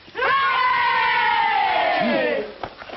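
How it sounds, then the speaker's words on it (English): A group of schoolchildren gives a great big cheer for Mr. Fox in a 1940 film, a loud, sustained shout of many young voices that swells and falls over about two seconds before stray calls trail off. "Let's give a great big cheer for Mr. Fox."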